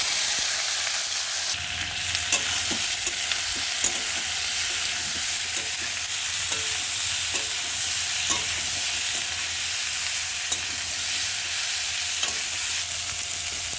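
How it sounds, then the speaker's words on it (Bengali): Young jackfruit and potato pieces fry in oil in a pan, a constant close, dense sizzle punctuated by regular light clicks and scrapes of stirring throughout, with no voices. "আমি এই এঁচড় আর আলুগুলোকে একটু ভেজে নেব।"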